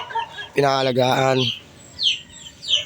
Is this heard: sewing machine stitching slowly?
no